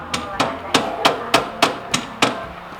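A hammer strikes a custom-made motorcycle shock absorber: seven sharp, evenly spaced metallic blows, close and loud, with a short ring after each hit.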